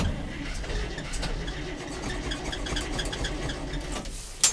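A cold 1973 International Loadstar truck engine runs rough just after a choke-assisted cold start, a steady low rumble with a faint rapid ticking rhythm throughout, fairly quiet and distant, ending in a short bump.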